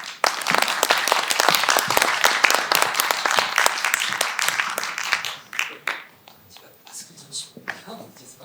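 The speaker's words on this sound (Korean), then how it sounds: "여러분 큰 박수로 맞아주시기" An audience at a regional culture forum gives dense, loud applause for about five seconds before it thins into a few scattered claps and quiet murmuring.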